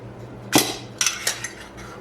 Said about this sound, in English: So yeah, ricing the potatoes.